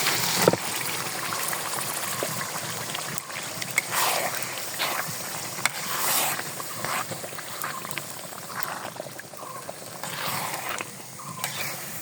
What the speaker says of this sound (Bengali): এখন আমি গোশতটা ঢেলে দিব।